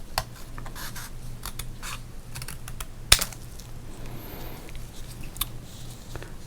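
Scissors cutting up a 1992 Fleer baseball card, with a steady run of soft close snips and light crinkly clicks, one sharper snap partway through, and no talking.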